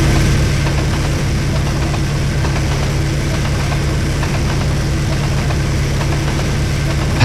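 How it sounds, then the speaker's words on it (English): A diesel locomotive engine runs steadily and loudly with a deep, constant rumble and vibration that holds unbroken throughout, with no voices. "the locomotive is putting out a powerful diesel engine sound"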